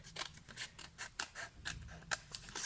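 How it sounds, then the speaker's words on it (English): Scissors snipping through paper while trimming a piece for an elegant handmade gift box, a quick run of about a dozen crisp, close cuts in an uneven rhythm. "Then I shall cut that down. Oh, fab. Right, so let me trim this down."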